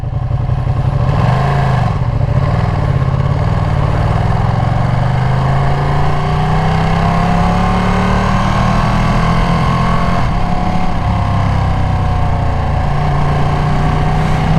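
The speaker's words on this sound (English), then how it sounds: "this motor vibrates so much" A Ducati motorcycle engine runs steadily up close, a loud continuous mechanical rumble with shifting revs and a strong vibrating drone throughout, no voices.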